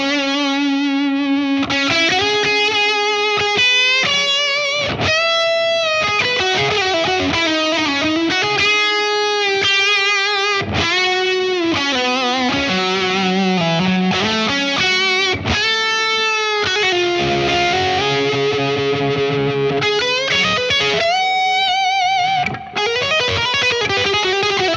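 Distorted electric guitar riffing through a high-gain pedal into a Victory Duchess V4 amp, loud and continuous with sustained chords and single-note lines, no voices.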